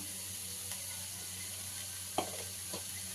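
Cauliflower fries in a pan as chili powder goes in, a steady low sizzle with a couple of soft scraping taps, close and with no talk.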